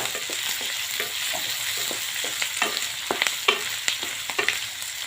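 Cabbage roasting in a hot pan for masala rice, with a steady broad sizzle and frequent scraping stir strokes of a spoon against the pan, close and continuous with no talking.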